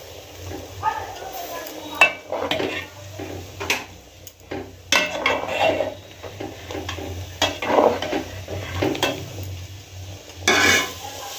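Dry red chillies and panch phoron temper in hot oil in a kadai, with a soft sizzle under scattered metallic scrapes and clinks of a spoon stirring against the pan, while someone talks intermittently nearby.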